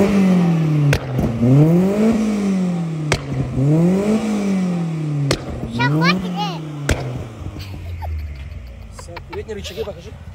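Car engine revved a few times after suspension work, close and loud, each rev rising and falling in pitch in repeated bursts, with people talking nearby.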